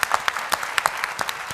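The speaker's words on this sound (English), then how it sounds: "Huge round of applause." Applause at a women's policy conference: a brief, sparse round of individual claps, several distinct hand strikes close together without talk.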